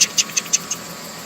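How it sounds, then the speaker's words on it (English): Rapid, evenly spaced metallic ticks from the cracked exhaust manifolds of a 2008 Chevy Trailblazer, about five in quick succession, sharp and high-pitched over a low steady hum, then fading out. "The exhaust manifolds both are cracked. You can hear this thing ticking."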